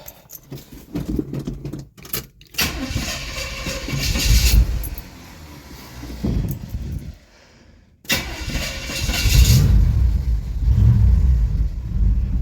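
A vehicle engine cranks and fires up right after a new alternator install, with bursts of cranking, catching and rough running separated by brief gaps; no one talks.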